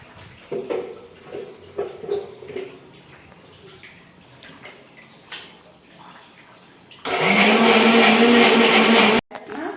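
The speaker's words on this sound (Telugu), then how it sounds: "మళ్ళీ మిక్సీ పట్టాలి మేడం" A kitchen mixer grinder whirs loudly for about two seconds as it grinds green chilli, peanuts and tomatoes into chutney, a steady high motor roar that stops abruptly, following quieter stretches of voices and kitchen clatter.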